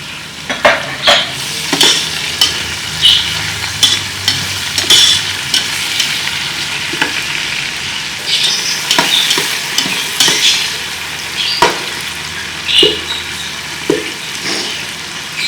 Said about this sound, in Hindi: अब हम इसमें टमाटर डालेंगे।